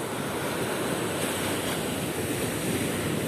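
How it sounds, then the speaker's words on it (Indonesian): Large waves crash onto the beach at Tanjung Patok during high tide, a loud, continuous roar of surf with wind noise on the microphone and no voices. "Ombaknya sangat besar guys."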